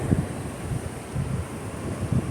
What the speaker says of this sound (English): You probably couldn't hear a thing that I said because it's so windy